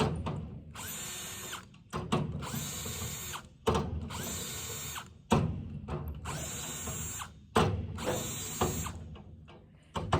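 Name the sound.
impact driver tightening bolts on farm equipment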